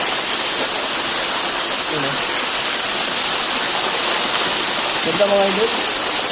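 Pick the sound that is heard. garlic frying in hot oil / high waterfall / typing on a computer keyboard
high waterfall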